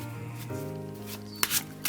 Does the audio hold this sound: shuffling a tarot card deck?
yes